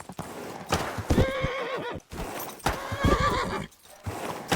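Horse in Kingdom Come Deliverance 2 giving two loud whinnies close by, with clopping hooves underneath.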